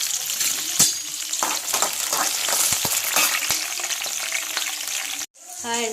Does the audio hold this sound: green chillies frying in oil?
yes